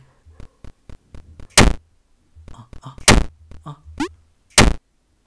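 Gunfire and bomb blasts from a video game, including nuclear bombs: sharp repeated shots in quick bursts, punctuated by three big loud explosions spread across the stretch, with a brief rising whoosh between them.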